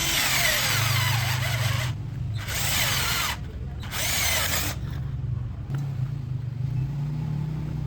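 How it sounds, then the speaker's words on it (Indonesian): A cheap Decker cordless drill boring a hole runs loudly in three bursts, switched on and off by repeated trigger pulls with short pauses between. "Untuk lubang kedua sama ya, kita butuh beberapa kali pencet trigger switch agar bisa tembus."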